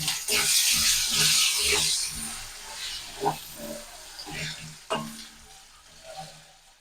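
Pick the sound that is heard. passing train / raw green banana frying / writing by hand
raw green banana frying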